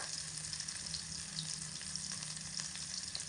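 Cumin and ginger paste with chopped green chillies fries gently in a pan while being stirred, a soft, even sizzle heard faintly and alone.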